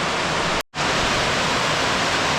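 Heavy rain pours steadily in a Borneo rainforest in Sabah, a dense, broadband hiss heard from under shelter that cuts out for a brief moment and then resumes just as strong.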